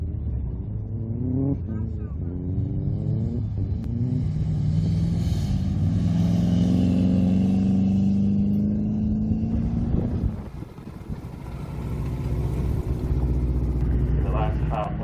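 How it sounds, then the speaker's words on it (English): A rally car, number 420, works through a roundabout on a dirt rallycross course in Arizona. Its engine revs rise and fall in pitch as it accelerates close by, then the sound drops away and a lower rumble returns. "Car 420 entering our roundabout."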